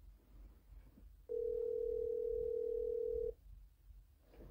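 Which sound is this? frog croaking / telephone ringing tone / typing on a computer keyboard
telephone ringing tone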